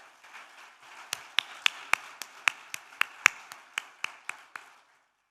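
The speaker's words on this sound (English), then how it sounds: "I want to hear loud applause from the floor" Slow, sparse rhythmic clapping from a hall audience, about a dozen sharp claps at roughly even intervals over a few seconds before fading to silence, fairly close and heard alone.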